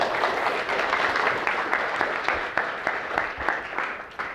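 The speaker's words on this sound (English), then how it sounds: "Give these ladies a big round of applause." Audience applause for two women at a body-language and hypnosis seminar, a full, steady burst of many hands clapping that thins slightly as it fades near the end.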